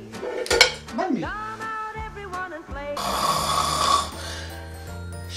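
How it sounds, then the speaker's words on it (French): Person snoring in a comedy sketch scene, a few loud drawn-out snores with clattering dishes and cutlery-like noises, fairly close and busy. "Mais oui, tu ronfles."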